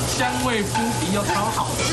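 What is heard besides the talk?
food sizzling on a hot plate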